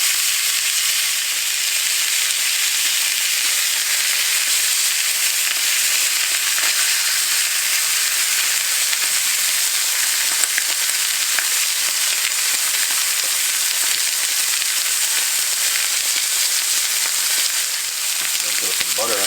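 Steak sizzles loudly in a cast iron pan, a dense, steady frying crackle close up that runs unbroken for the whole stretch without speech.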